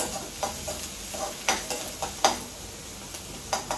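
Onion sautéing in a pan in a home kitchen, stirred with soft scraping strokes every half second or so over a low continuous sizzle, close and fairly quiet, with no talking.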